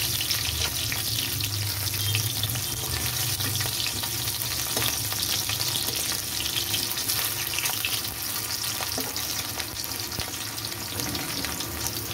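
Potatoes frying in hot oil give a loud, steady sizzle that runs unbroken from start to finish, with no talking over it.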